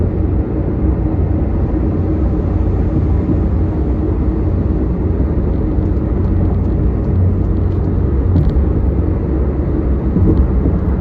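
A car rolling along a road, a steady low rumble of engine and tyre noise from inside the cabin, unbroken and alone with no talk.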